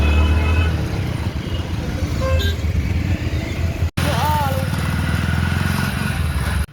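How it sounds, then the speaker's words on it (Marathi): Busy market-road traffic with motorcycles: close engines drone and rumble continuously, a short horn toot sounds early on, and the sound cuts out briefly midway before the traffic noise resumes. "तर किती सारी ट्रॅफिक लागली."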